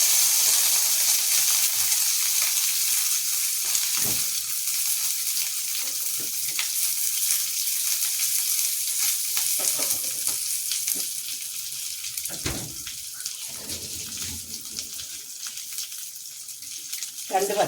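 Mustard seeds, dried red chilies, garlic and ginger tempered in hot oil give a loud, continuous sizzle, with a few clinks and a brief splash of water partway through.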